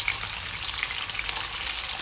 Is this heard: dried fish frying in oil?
yes